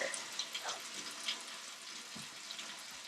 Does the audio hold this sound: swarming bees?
no